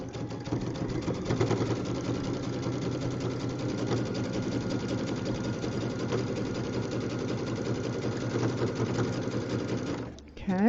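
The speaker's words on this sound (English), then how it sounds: "let's sew on the other side" A sewing machine stitching fabric, a steady close mechanical whir and rapid needle chatter running continuously before stopping near the end, with a voice faintly talking underneath.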